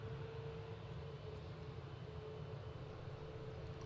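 A Norwegian airliner from Oslo on final approach at Edinburgh Airport makes a steady, low, distant roar that holds even throughout, with no voices.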